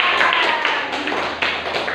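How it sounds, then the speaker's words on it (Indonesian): A classroom claps for a student named Yayan, a short burst of dense, close clapping from a group that fades after a couple of seconds. "Tepuk tangan buat Yayan"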